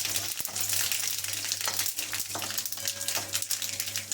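Mustard seeds and dried chillies sizzling in hot ghee, a loud, close, steady frying crackle with scattered seed pops throughout.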